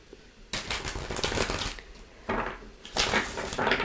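Playing cards are shuffled by hand in a quiet room during a tarot reading, a few quick riffling bursts with short pauses between them, crisp and close.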